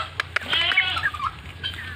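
Guinea fowl on a farm give harsh, rhythmic chattering calls, several repeated bursts fairly close by and moderately loud, with no talk.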